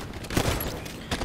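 Assault rifle fire in a shooting video game, a couple of quick sharp bursts of shots close and loud over game background noise.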